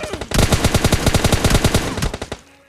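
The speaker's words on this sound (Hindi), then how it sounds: "हेड दिखाता है वो अपना, जिससे 2-3 शॉट लगते हैं" An M416 rifle fitted with a 6x scope fires in PUBG Mobile Lite, a loud, close burst of rapid gunshots in quick, even succession that tapers off at the end.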